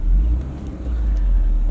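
A 2001 Honda S2000's engine and intake drone steadily while driving, a close, continuous low rumble with no talk over it.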